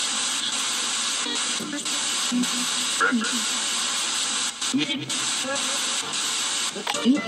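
Steady broadband radio static hisses throughout, with brief sweeping bursts and choppy fragments breaking through as a ghost box scans the FM and AM dial.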